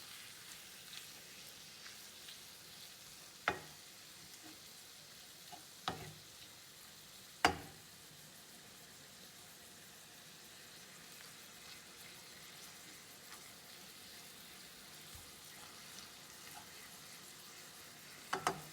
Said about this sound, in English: So I'm just gonna give this a stir.